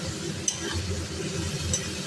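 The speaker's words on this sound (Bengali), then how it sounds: "এই পেঁয়াজটা এবার তেলে দেবো। এই যে পেঁয়াজটাকে ভেজে নিতে হবে।" Chopped onions fry in plenty of oil for a dried fish curry, a soft steady sizzle with light stirring and a couple of faint clinks of the utensil against the pan.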